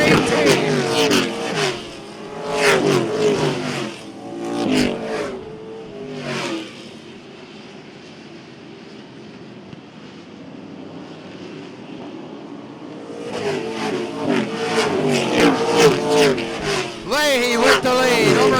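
Sportsman race cars run wheel to wheel on a dirt oval at Jefferson, engines roaring and swelling as the pack passes, then fading to a distant drone before surging back loud, with an announcer calling the race over it.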